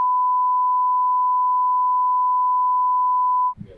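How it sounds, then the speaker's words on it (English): A single steady censor beep, a pure continuous tone held loud for about three and a half seconds, cutting off abruptly into faint low room noise. "Make sure you beep this."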